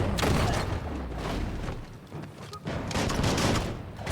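Bursts of gunfire ring out in the Biomutant video game, loud dense volleys that briefly ease off around the midpoint before resuming just as heavily.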